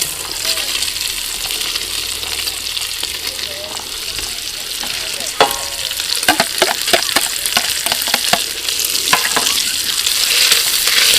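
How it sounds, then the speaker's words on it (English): Onions and garlic frying with bacon in a pan for a cockle chowder, a loud, steady broadband sizzle with scattered crackles and stirring scrapes that grow busier toward the end. "Go around, fry that off for a bit until we've got the onions nice and clear"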